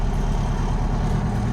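A Detroit 8V71 two-stroke diesel truck with a 13-speed transmission, the engine idling or creeping in reverse as a loud, steady low-pitched rumble throughout the short stretch, with no talk over it.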